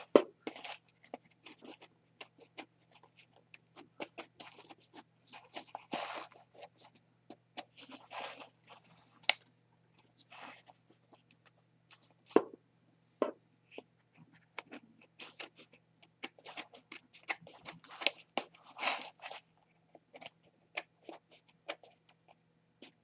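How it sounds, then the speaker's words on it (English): Scissors snip off excess material while a magnetic dossier album is assembled, giving quiet, irregular crisp cuts and faint scraping close by with no talk. "take your scissors and then just cut off the excess"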